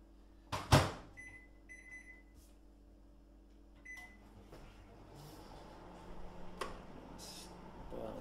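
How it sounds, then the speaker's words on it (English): A microwave oven heating milk: a sharp door or latch clack, then a few short electronic beeps, and a steady low hum as it runs, with faint clicks and light kitchen handling noises nearby. "So I've got my milk, I microwave it for a minute and a half,"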